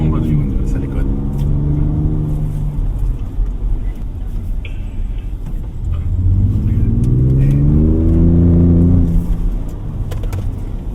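A 2025 Ford Ranger Raptor with a 3.0 V6 engine accelerates from inside the cabin, its steady engine drone rising in pitch through two sweeps, loud and close, while a person talks over it.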